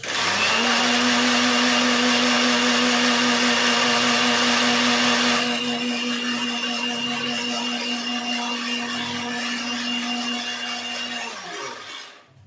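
A kitchen mixer grinder dry-grinds mustard seeds and poppy seeds with a loud, steady motor whine and rattling grit, running continuously before slowing and cutting off near the end.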